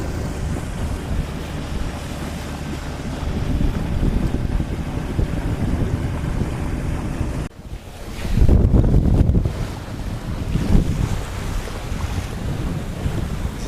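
Steady wind roars past while a sailboat cruises the Greek islands in a 16-knot breeze, with water rushing and washing against the hull and a louder gust surging partway through.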